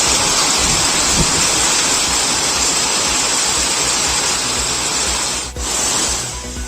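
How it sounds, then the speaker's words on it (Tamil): Rainwater pours from a railway station roof onto the platform in Sivaganga, a loud, continuous hiss of heavy falling water that barely varies, with one brief dip near the end. "சிவகங்கையில் ரயில் நிலைய மேற்கூரையிலிருந்து நடைமேடையில் கொட்டிய மழை நீர்."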